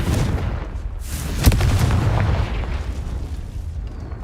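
A Confringo blasting spell explodes in the video game Hogwarts Legacy, a single sharp boom near the middle over a steady rumbling game ambience, with no one speaking.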